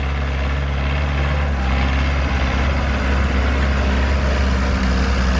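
A New Holland TT4.75 tractor engine runs steadily close by, a loud, continuous low diesel rumble with a constant droning hum and no speech.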